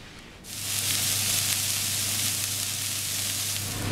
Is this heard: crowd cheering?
no